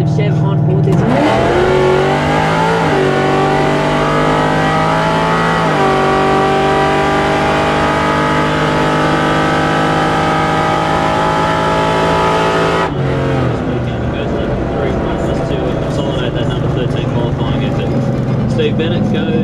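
Race car running a 355 cubic inch Chevrolet V8 accelerates hard at a drag strip, loud with steady rising engine harmonics and gear changes, an abrupt shift near the end, and a commentator talking over it.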